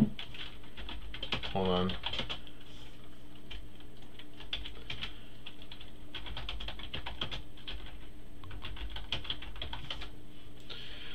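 Someone types quickly on a computer keyboard, the clicks running continuously at moderate volume with a short spoken interjection near the start.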